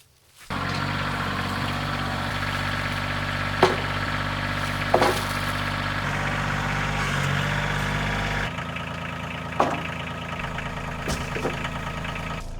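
A tractor engine idles with a steady low rumble near the listener, starting abruptly and continuing evenly, with a few sharp knocks and clicks over it.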